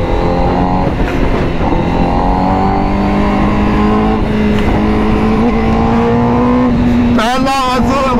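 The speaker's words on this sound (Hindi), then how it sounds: "सुपर बाइक, खतरनाक सीन है।" A nearby Honda CBR1000RR-R superbike engine revs and climbs in pitch, its loud whine rising steadily, then sharp throttle blips near the end over a constant roar.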